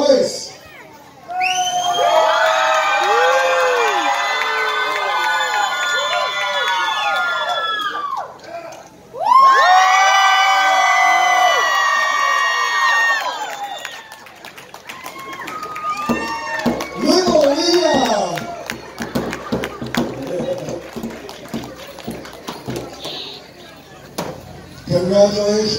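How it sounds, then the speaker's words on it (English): A powwow crowd at Swinomish Days 2019 cheers with long, high, wavering voiced calls and whoops, no drum, in two loud bursts followed by scattered clapping and chatter. "this is going to be my crowd applause. No drum, just voice."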